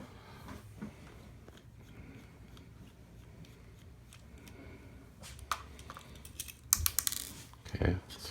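A small screwdriver working tiny screws out of a PS4 controller, heard as soft ticking and faint scratchy clicks up close, then a few sharper plastic clacks near the end.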